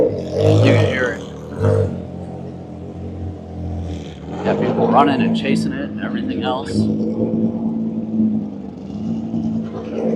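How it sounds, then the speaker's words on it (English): A fully race-prepped Porsche rolls through a busy Cars and Coffee meet in Hunt Valley, Maryland, its engine a low steady drone beneath someone talking loudly nearby. "the Porsche rolling through. It's like a full race car. You can hear it."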